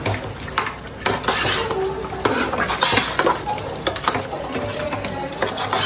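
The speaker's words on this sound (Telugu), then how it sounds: "దీన్ని బాగా కలుపుకోవాలి." A spoon scrapes and clinks around a pot of Telangana-style mutton gravy, with irregular close stirring strokes and occasional metallic taps, no talking.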